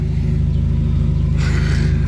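Car engine revving through an exhaust with no muffler, giving a loud, steady low rumble with a rise in pitch and roar toward the end, close by with no talk.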